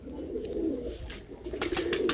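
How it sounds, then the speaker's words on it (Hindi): Pigeons on a rooftop in hot weather, a flock kept for breeding, with low cooing sounds mixed into steady outdoor background noise and a few brief higher bursts near the end. "सीबे कबूतर ये ऊपर उड़ रहे हैं।"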